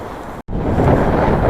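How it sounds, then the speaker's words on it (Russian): A cold north wind blows through a tunnel in Sichuan, China, a steady broadband rush that cuts out for a split second and returns with the same continuous force. "ветер как раз с севера идет и задувает холодненький"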